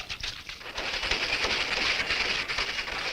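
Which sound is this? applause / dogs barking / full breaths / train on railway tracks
train on railway tracks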